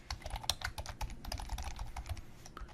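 Typing on a computer keyboard while entering a name into a C++ program: rapid, irregular clicking keystrokes at close range, fairly quiet, with no talk.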